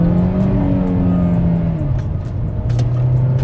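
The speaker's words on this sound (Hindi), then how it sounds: "Raving till 5000 RPM, let's go." Hyundai Creta petrol engine revving hard to about 5000 RPM, a loud steady engine drone with clear harmonics that holds its pitch and then eases slightly, heard close up with no talking.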